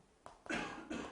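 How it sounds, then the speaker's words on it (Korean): Coughing in a classroom during a calculus lecture: three short bursts, the last two loud and close, with no talk over them. "기침 존나 번져있네"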